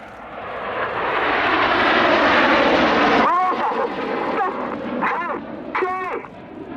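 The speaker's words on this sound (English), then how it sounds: "the following pilots use their feet to input a lot of rudder, swinging the jets out like a pendulum in line astern." Red Arrows jets fly aerobatics at an air show, first a loud sustained roaring pass, then the engine noise sweeps and wavers in pitch as the aircraft bank and swing past.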